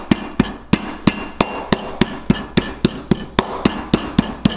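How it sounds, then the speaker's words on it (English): A meat mallet pounds butterflied pork chops in a fast, steady rhythm, about nineteen sharp, loud thuds in a row with no one speaking. "now I'm gonna use the meat hammer"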